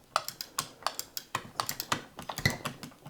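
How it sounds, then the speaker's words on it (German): Crisp, evenly spaced mechanical clicks from a Pikes sim racing shifter being moved through its gates, about a dozen sharp taps close to the microphone with no talking. "In meinen Augen ist dieses Klicken in Ordnung."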